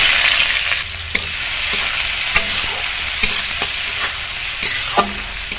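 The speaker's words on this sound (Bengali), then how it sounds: "তো এই মশলাটা আমি এই গরম তেলের মধ্যে দিয়ে দেবো।" Fennel, cumin and nigella seeds frying in hot oil, a loud continuous sizzle broken by several sharp clicks and scrapes of a spoon stirring the pan, with no voices.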